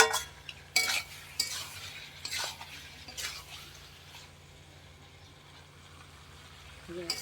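Meat being stirred in an open cooking pot, a spoon scraping and clinking against the metal in a few sharp bursts, then a quieter stretch of low simmering before one more scrape at the end.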